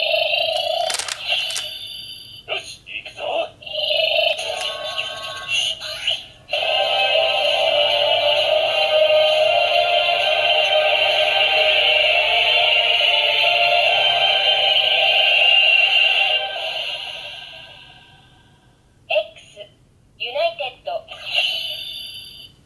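An Ultraman X Xdevizer toy plays a bright electronic transformation effect, a sustained synthetic tone lasting several seconds between button clicks and handling noises, framed by a person talking before and after.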